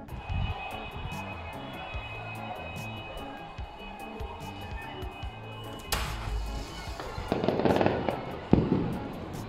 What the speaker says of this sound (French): ça fait des pétards dans la rue